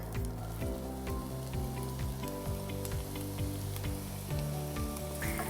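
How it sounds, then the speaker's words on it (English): Onions sautéing in an oil-coated pan make a soft, steady sizzle throughout, heard under louder background music. "So get our oil in there. Make sure the whole pan is coated. And we can get our onions started."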